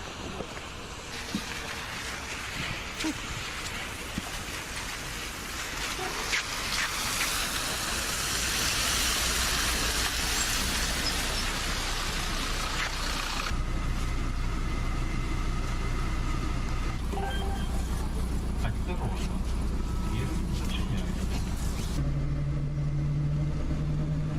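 A city bus heading to the centre hums and rumbles steadily from inside, with continuous engine drone and road noise that shifts as it moves, and a faint tone sounding near the end.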